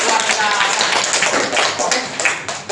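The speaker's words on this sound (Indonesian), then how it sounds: "kita beri aplaus buat nomor 1" A classroom audience in Indonesia applauds the first presenter after a history presentation, a dense, steady clapping from many hands, fairly close and loud throughout.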